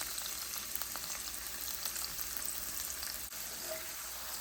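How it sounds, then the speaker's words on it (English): Onion sautés in a pan for eggplant with chili garlic sauce, giving a soft, steady sizzle with a few light clicks, quiet and close, with no voices. "Just cook the onion for a little bit until it's tender."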